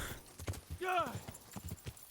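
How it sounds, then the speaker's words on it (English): Horse hooves clip-clop at a brisk rhythm during riding in the medieval video game Kingdom Come: Deliverance, with a brief whinny from the horse partway through. "I'll at least run around on horseback with a torch until I get in range."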